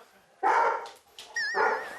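A Weimaraner dog, cornered by its owner, gives a couple of sharp close barks and yips with a whiny edge, loud and separated by short pauses.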